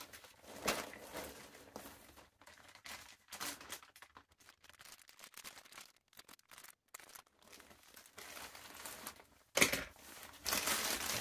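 Paper scissors cutting open a plastic parcel bag of sweatshirt fabric, close-up intermittent crinkling, rustling and snipping with quiet pauses between bursts and a louder crackle near the end.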